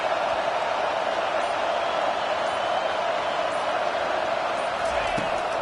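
A stadium crowd in the College Football 25 video game roars steadily through a tense late fourth-down moment, a dense, continuous wall of cheering with no clear breaks.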